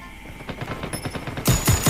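Rapid gunfire in the Call of Duty Mobile shooter game: a fast automatic burst of repeated shots, moderately loud at first, then several heavier, louder cracks close by near the end.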